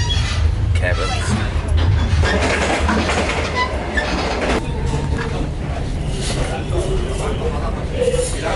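Sleeper train running on rails through North Korea, a steady loud rumble with rhythmic clickety-clack and faint wheel squeal, with some background voices.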